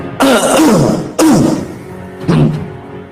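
Three harsh throat-clearing coughs from a nearby person, each a short rough burst with a gap between, the last one quieter.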